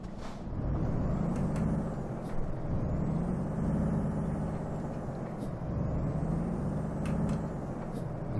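Truck in Euro Truck Simulator 2 idling after starting, a steady low diesel rumble with faint periodic hissing and rising whines, constant and close.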